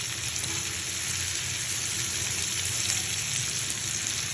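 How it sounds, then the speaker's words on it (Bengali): Shrimp sizzling in hot mustard oil in a pan with chili powder, salt and lemon juice, a steady broadband frying hiss that stays loud and continuous throughout. "এরপরে দিয়ে দিলাম চিংড়ি মাছগুলো"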